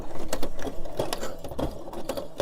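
A sewing machine stitches through a thick baby-clothes quilt, its needle running in fast, steady bursts with brief pauses as the fabric is turned, close and loud with no talking.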